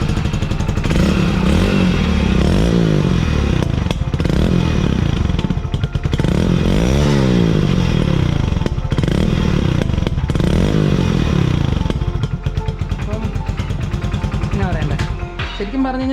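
Hero Splendor BS6 motorcycle fitted with a Euro 1 silencer, engine started and idling close by with a steady throbbing exhaust, a slight metallic clatter and a few revs swelling and settling.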